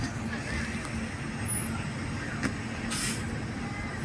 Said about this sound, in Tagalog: Christmas traffic dito sa Santo Tomas.